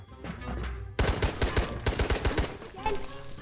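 Rapid bursts of gunfire in the video game Ghosts of Tabor, a dense volley of sharp, loud shots lasting about a second and a half, followed by a few scattered reports.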